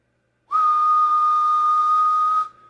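A single steady whistle tone into a CB radio microphone driving a mobile linear amplifier, loud and close, held for about two seconds and then cut off sharply.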